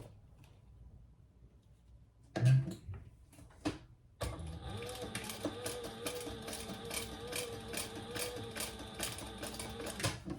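A sewing machine stitches a 1/4 inch seam on a crossbody sling bag, a few handling knocks leading into a steady, fast rattling hum that runs several seconds at moderate, close volume.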